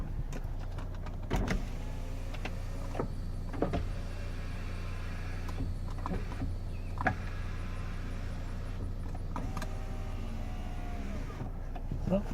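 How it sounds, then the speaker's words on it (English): Power windows of a 2007 Saab 9-3 convertible whirring up and down in several short runs, faint electric motor whines separated by pauses, with some talking nearby. "Power windows."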